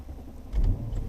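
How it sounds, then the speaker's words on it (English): A Brabus B11 W220 S500 with a 5.0 V8 cold-starts on a freezing morning, a quick low cranking rumble swelling into a deep idle that settles steadily, heard from inside the car. "Fires up without no problems."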